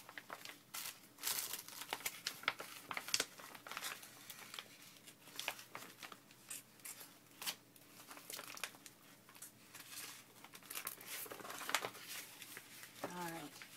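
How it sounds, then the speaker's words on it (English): Scissors cutting through a piece of paper for a junk journal, with crinkling and snipping sounds at close range and a voice talking over them. "I'm going to cut this piece off, and then we'll cut out the sides that we need"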